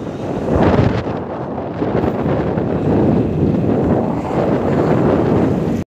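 Steady, roaring wind buffets the microphone during a motorcycle ride on a long coastal loop, a continuous broadband rush that swells and eases without pause before cutting off abruptly.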